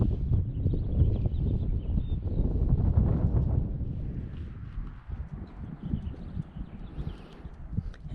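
Wind gusting across a high mountain pond in the Uintas, a steady rushing roar strongest at first, then easing to a lighter, buffeting hiss with scattered soft knocks.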